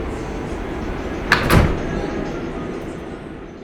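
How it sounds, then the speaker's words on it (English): Doors on a Manhattan-bound 7 local subway train slide shut with a short thud and clatter midway, set against a steady rumbling station and train ambience. "Stand clear of the closing doors"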